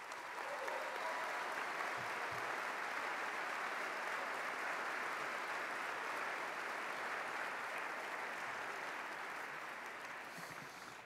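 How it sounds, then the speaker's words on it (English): An audience at a mayor's State of the City address applauds a retiring community member, with sustained, dense clapping from a large crowd that holds steady for about eleven seconds and tapers slightly at the close. "let's give him a round of applause."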